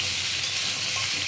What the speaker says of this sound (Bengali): একটু ভালো করে কষিয়ে নেব